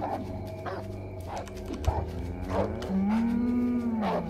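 Cow mooing in the video game The Cows Are Watching: several short, close bovine moos in a row, then a longer drawn-out moo, over steady game background sound.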